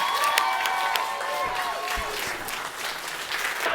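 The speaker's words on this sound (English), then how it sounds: "People and others, please clap for and welcome our friend of the show, Mr. Casey Paulson." An audience claps and cheers to welcome a guest onto a comedy show stage, with steady applause and scattered high whoops and shouts throughout.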